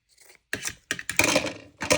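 Scissors snipping through paper while making a matchbook, a few short dry rasping cuts in quick bursts separated by brief pauses, close and quiet with no talking.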